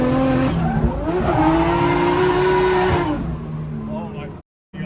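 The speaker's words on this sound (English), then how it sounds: "This car is so rowdy still." A rowdy drift car on a public road revs hard with long squealing tire slides, loud and close, the engine note rising and falling before cutting off briefly near the end.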